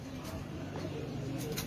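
Sialkoti pigeons cooing in a low, soft, rounded rhythm, fairly faint against background noise.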